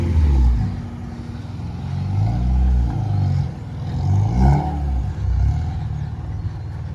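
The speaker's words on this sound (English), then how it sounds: "More cars coming." Motor vehicles rumble past nearby on a road at Keaiwa Heiau State Recreation Area in Aiea, Hawaii, engine noise rising and falling as each one goes by, with no talking.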